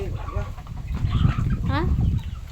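Farm ducks quack and chatter close by in a short burst, several birds calling over one another amid a low rumbling background, with a voice mixed in.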